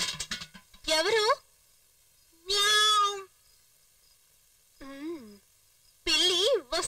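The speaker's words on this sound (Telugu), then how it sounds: "ఏ పిల్లి వెళ్ళిపో" A cat gives several separate, drawn-out meows with short silences between them, close and fairly loud, and a person's voice is heard briefly at the start.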